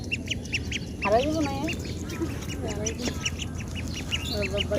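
Small domestic ducks quack repeatedly in short rhythmic bursts, fairly close, while a person talks over them against outdoor background noise.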